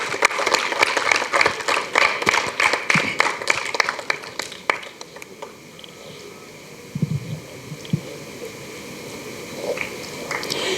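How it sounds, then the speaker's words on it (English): Audience applause at an academic institutions panel session, dense clapping loud for the first four seconds then thinning into scattered claps and faint murmur. "Give them a really big round of applause"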